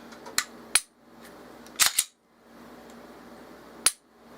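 Metallic clicks and clacks from a Gen 3 Glock 19C pistol being function tested after a recoil spring replacement with reduced trigger spring and 3.5 pound connector: a few sharp, close snaps spaced out over a quiet room, with no talking.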